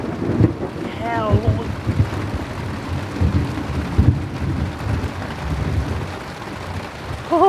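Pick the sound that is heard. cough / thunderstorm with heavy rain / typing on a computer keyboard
thunderstorm with heavy rain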